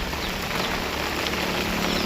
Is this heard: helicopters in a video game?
no